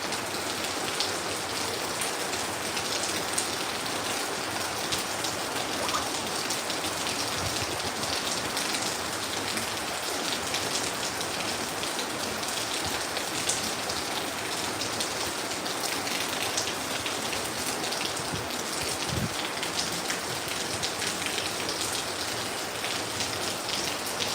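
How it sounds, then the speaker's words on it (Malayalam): Steady rain pours down in Kozhikode, a dense, even hiss of drops on surfaces that runs without break at a constant level, with no voices over it. "ഇതാ കോഴിക്കോട് മഴയോ മഴ മഴ മഴ മഴ"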